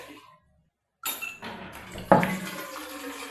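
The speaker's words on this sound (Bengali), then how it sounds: "দেখো এর মধ্যে আমি এবার জল নিয়ে নিচ্ছি" Water is scooped from a pot for cooking, with a brief metallic clank of the vessel followed by splashing and trickling water, close by and moderately loud after a short silence.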